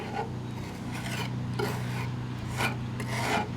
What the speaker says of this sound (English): I'm just going to use a little table knife. Place it on there, work it into the hole.